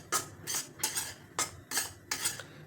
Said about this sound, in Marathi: कढई जाड आहे, जाड बुडाची, त्यामुळं जरा वेळ तसंच हलवत राहायचं